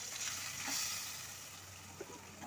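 Soft, continuous sizzling of a ground coconut and onion paste frying in hot oil, with faint crackles and a light stir near the end, no voices.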